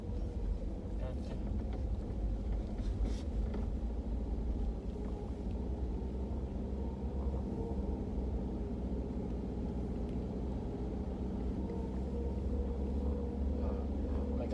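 A car driving along during a driving lesson, its steady low engine and road rumble running continuously throughout, with some wind noise and an instructor and student talking over it.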